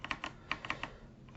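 Quick light keystrokes on a computer keyboard, a short burst of several close clicks in an uneven rhythm, faint and alone.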